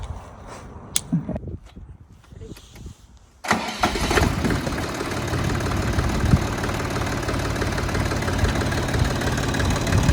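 Siromer 304 compact tractor engine cranking over and catching after its fuel system is bled, then settling into a loud, steady diesel run with a continuous knocking chatter, close up, after a few quieter clicks and handling noises.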